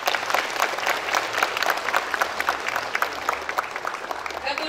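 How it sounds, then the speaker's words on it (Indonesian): Applause at a Pancasila Day ceremony at an Islamic senior high school, a dense, steady burst of many hands clapping from a large gathering, fairly loud and sustained throughout. "Tepuk tangan untuk semua."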